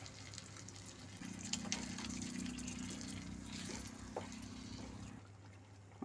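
Water is poured into a pan of simmering paneer gravy in a home kitchen, making a steady, low trickling stream that lasts several seconds over faint sizzling, then stops.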